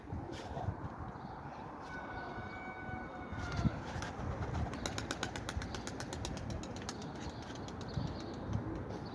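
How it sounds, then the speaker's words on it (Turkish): Tumbler pigeon in flight at a pigeon-flying session, wing flaps and flutters faint amid steady outdoor background noise, with a short rapid burst of clapping wingbeats near the middle; no talking. "Kuşumuz dediğim gibi geziyor arkadaşlar."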